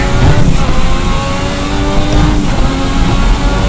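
Formula RSS 1986 V6 turbo race car engine from the Assetto Corsa racing game, a loud, steady barking drone with turbo whine and wastegate hiss, held at high revs for the whole stretch with slight pitch shifts.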